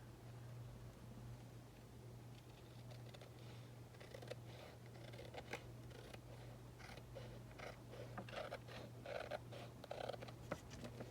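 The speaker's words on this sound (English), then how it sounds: "And cut this out." Scissors cutting out card paper for a handmade winter bird card, heard as a series of quiet, close snips and crisp paper rustles over a steady low hum, with no talking.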